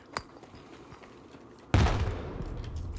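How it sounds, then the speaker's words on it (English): A grenade explodes in a Stalker 2 firefight with a sudden loud blast that rumbles and decays over about a second, following a sharp gunshot and scattered quieter shots. "That's a grenade!"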